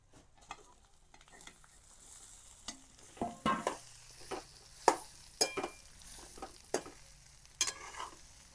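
Cut fand-leaf muthiya dumplings are stirred into a hot tempering of curry leaves and sesame seeds in a pan: a soft sizzle runs underneath while a spoon scrapes and knocks against the pan in irregular taps.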